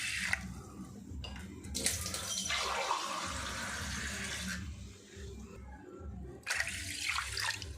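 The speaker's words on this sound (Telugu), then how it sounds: "నానబెట్టుకున్న రైస్లో వాటర్ వేసుకోవాలి." Water is poured into soaked rice for ragi sangati, a continuous splashing and rushing stream that swells and eases, briefly cutting out before resuming near the end.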